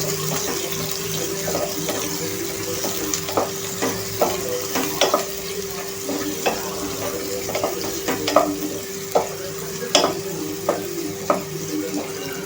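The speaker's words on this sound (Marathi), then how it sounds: "कांदा टोमॅटो छानपैकी फ्राय करून घ्यायचा आहे आपल्याला" Onion and tomato frying in a pan for aloo matar sabzi, a continuous close sizzle broken by regular sharp spatula taps and scrapes against the pan, with a steady hum underneath.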